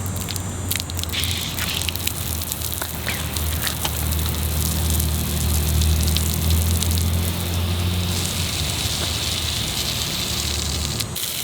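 An Aqua Joe telescoping sprinkler on a new hybrid garden hose throws a steady, loud, hissing spray with an even, continuous wash of water and no pauses.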